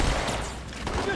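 Rapid gunfire from the Halo video game, dense and continuous through the moment with a voice talking over it in the background.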